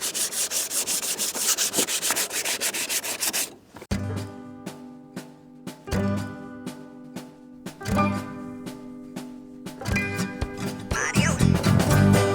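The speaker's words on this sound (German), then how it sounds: "wie immer müssen wir natürlich erstmal schleifen, den ganzen alten Scheiß hier runterholen" Sandpaper rubs old paint off a part of a VW T3 van, a steady rasping scrub at first, then shorter repeated strokes in bursts, close and fairly loud.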